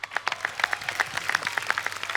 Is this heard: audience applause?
yes